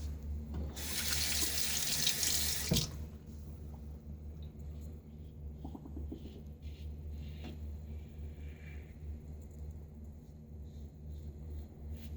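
A water tap gushes into a sink for about two seconds as a shaving razor is rinsed, then cuts off, leaving a low room rumble with faint drips and small handling sounds.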